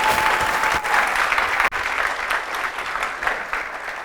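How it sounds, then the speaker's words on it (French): An audience at a televised arts event applauds with sustained, dense clapping. It breaks off briefly partway through, then continues at a slightly lower level. "Merci pour vos applaudissements."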